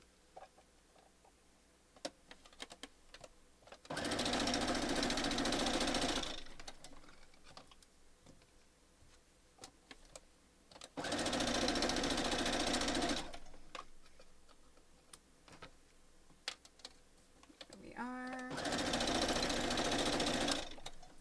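Sewing machine stitching a pixelated Halloween quilt block, three separate runs of steady close whirring, each several seconds long, with quiet pauses and small handling clicks between them.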